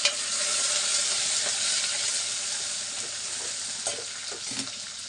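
Vegetables such as okra and brinjal pieces sizzle and fry in a pan for sambar, with a steady bright hiss and a few soft scraping stirs near the end, no talking.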